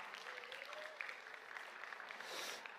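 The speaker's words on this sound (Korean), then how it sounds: "우리 박수 한번 보내주시면 더 감사하겠습니다." Congregation applauding four newly married couples at a church wedding service, a steady, even wash of many hands clapping at moderate distance, swelling slightly near the end.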